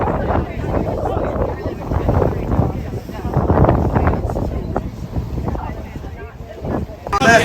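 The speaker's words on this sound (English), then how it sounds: "we are off on our very first trip on a schooner" On a schooner under sail, strong wind buffets and rushes across the deck in a continuous roar with flapping, rustling noise, and people's voices can be heard beneath it.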